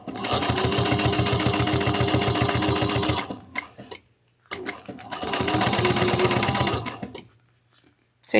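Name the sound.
sewing machine stitching down a strap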